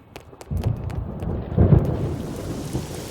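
Thunder rumbles in and is followed by steady rain, a heavy roll arriving about half a second in and swelling again midway before settling into a continuous wash of downpour, with no voices over it.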